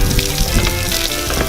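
Water sprays and patters steadily from a toy car wash's foot washing station, a close, even hiss of droplets hitting a surface, continuous and fairly loud with no talking over it.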